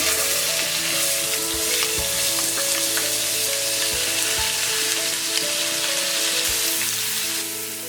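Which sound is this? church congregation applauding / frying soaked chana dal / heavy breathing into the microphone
frying soaked chana dal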